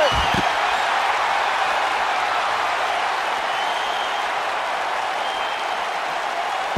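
A capacity crowd at a live wrestling event in a Seattle arena roars and applauds steadily in a dense, sustained wash of cheering without a break.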